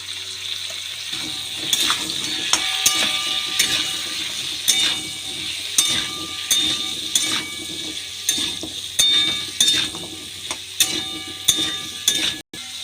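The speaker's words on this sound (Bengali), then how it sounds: "ঢাকা দিয়ে দিয়ে ভাজা করে নেব" Potato and papaya pieces fry in a pan, with repeated scraping and stirring strokes over a steady sizzle close by.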